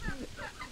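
Clucking from a domestic hen, a few short throaty calls close by in a farmyard setting, over low background noise.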